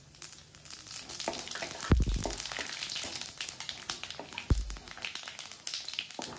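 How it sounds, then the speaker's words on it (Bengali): Bay leaf, dried chillies and five-spice seeds crackle and sizzle in hot oil in a pan, a steady close frying hiss with a couple of sharp pops. "এবার দেব তেজপাতা, শুকনো লঙ্কা আর"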